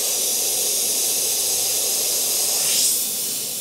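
An airbrush steadily spraying paint onto a clown design, a continuous close, even hiss of air and paint that swells slightly near the end before easing off.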